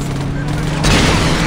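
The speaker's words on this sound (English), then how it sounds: "You shoot, I'll drive." Car driving and gunfire in the Saints Row video game: a steady engine rumble under a dense, noisy burst of shooting that swells partway through and continues to the end.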